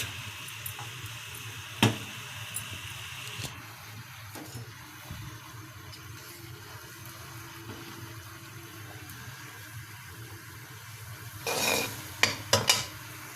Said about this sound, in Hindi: इसके अंदर जो है सेवइयों को भून लेंगे मक्खन के साथ।